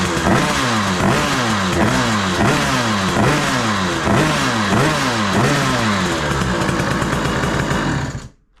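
A motorcycle engine, just kick-started after a kick starter repair and not yet tuned, revs up and down in a rapid repeating pattern, loud and close, then cuts off abruptly at the end.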